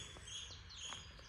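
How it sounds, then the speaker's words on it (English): A bird calls in short chirps several times over steady outdoor background noise, fairly faint and somewhat distant. "Noisy bird kicking off."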